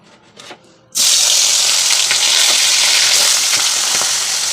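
Bata fish sizzling as it is laid into hot oil in a pan: a loud, steady crackling fry bursts in after a quiet second and carries on close up without talk.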